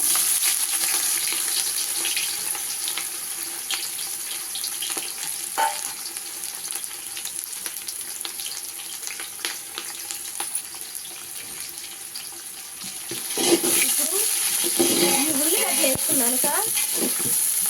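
Half a kilo of chopped onions fry in a pan for chicken biryani, a continuous close sizzle with small crackles and stirring clatter that grows busier and louder toward the end.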